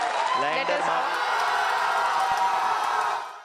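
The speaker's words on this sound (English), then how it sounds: "Tensions eventually eased by cautious, then rapturous applause" Audience applause and cheering as the Chandrayaan 3 lunar lander touches down, a broad, steady roar of clapping and whoops from a large crowd, with a brief voice rising near the start before fading at the end.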